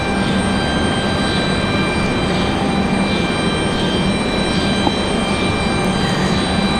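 Delta jet arriving at Raleigh-Durham International Airport, a steady loud engine drone with faint high whine tones, constant and unbroken, heard without any talking.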